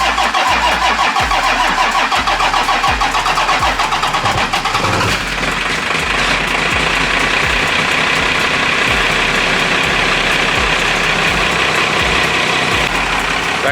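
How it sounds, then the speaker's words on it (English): A first-generation Cummins 12-valve diesel engine with full exhaust cranks over in a rhythmic series of starter pulses, catches around the midpoint, and settles into a loud, steady, clattering diesel idle close by. "That good old 12 valve cold start."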